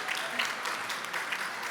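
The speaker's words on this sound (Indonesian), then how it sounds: "Kita berikan tepuk tangan untuk Okezone National Championship" Short burst of crowd applause at an Okezone National Championship futsal event, a steady wash of clapping with no voices over it.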